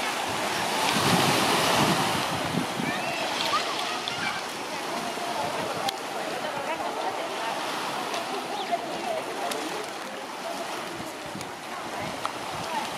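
Waves wash continuously into a cove on Tabarca island, a steady surf roar mixed with gusting wind noise buffeting the microphone, with no voices.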